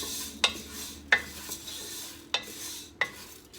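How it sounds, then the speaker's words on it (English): Fideo noodles browning in oil crackle softly while a spoon scrapes the pan at uneven intervals, four or five crisp strokes standing out over the low, steady sizzle. "I'm just gonna brown it. So this could take a few minutes, and I wanna coat all the noodles with the oil."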